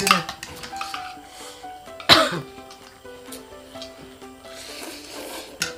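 A person coughs and clears their throat while eating, giving a few sharp bursts, the strongest near the middle, amid quiet clinks of dishes and a musical background.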